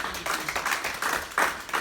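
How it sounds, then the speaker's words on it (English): Short burst of audience clapping at a real estate office gathering, several hands patting unevenly in loose bursts, fairly close and moderately loud, with no talking. "Another round of applause."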